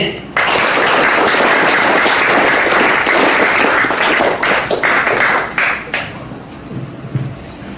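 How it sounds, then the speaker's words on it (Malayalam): Loud audience applause fills a hall, dense and steady for several seconds before thinning into scattered claps and fading. "ഒരു ക്ലാപ്പ് കൊടുത്തുകൊണ്ട് ഒരു വലിയ സ്വീകരണം കൊടുത്തുകൊണ്ട് നമുക്കത് തുടങ്ങാം"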